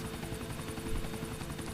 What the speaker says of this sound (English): just fly the helicopter right away over to your ally and go to pick him up